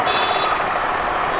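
Heavy street traffic in Andheri, a loud dense wash of engines and vehicle noise close by, with a steady tonal beeping or whine running through it, no speech heard.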